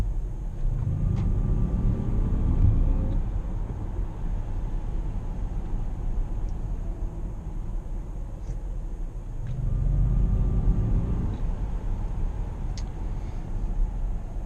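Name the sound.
Jaguar I-Pace electric SUV active sound design in dynamic mode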